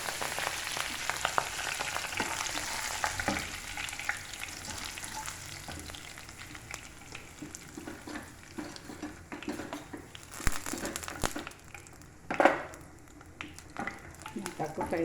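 Fenugreek leaves fry in oil with a continuous close sizzle and occasional stirring scrapes and pan knocks, while someone speaks quietly now and then.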